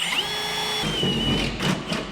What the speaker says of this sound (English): this drill bit is way too long for this.